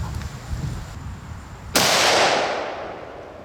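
A single sharp Savage Axis .308 rifle shot cracks out after a low outdoor rumble, loud and sudden, with a long fading tail of echo.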